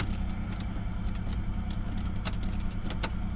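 Isuzu Rodeo engine running rough while in gear, a low uneven rumble with a stumbling, shaking character and faint rattles over the top, close by.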